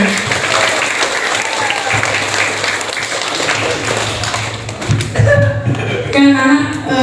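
Audience applause for a speaker at a school workshop event, a steady wash of clapping from a crowd with some chuckles, tapering off as a voice begins talking near the end.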